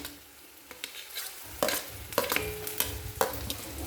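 Chopped garlic frying in hot oil with onions, a steady close sizzle broken by several sharp scraping stirs of a spatula across the pan, with no talking.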